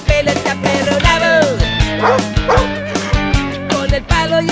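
A dog's barking and yipping sounds set within a song with steady beat and instruments, the dog sounds recurring through the music at close, loud level.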